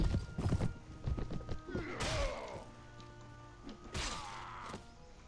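Horse hooves clopping while riding in Mount & Blade: Warband, mixed with game noise, brief whinny-like tones and scattered impacts, fairly close and moderately loud.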